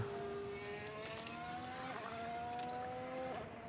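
Onboard with an Alpine F1 car driven by Pierre Gasly in the F1 Manager 23 video game, the engine note climbs and shifts steadily at high revs, continuous and unaccompanied.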